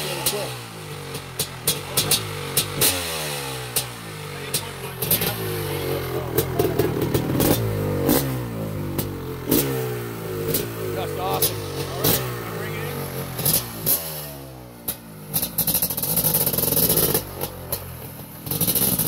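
A 1991 Honda CR500R motocross motorcycle's two-stroke engine runs at its first start in decades, revving up and down in repeated swells with sharp clattering bursts, fairly close, while people talk over it.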